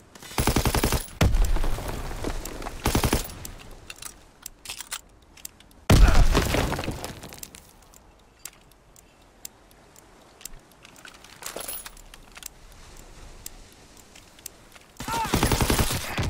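Bursts of automatic gunfire in a World War II shooter game, several loud, separated volleys with sharp reports and quieter gaps of scattered distant shots between them.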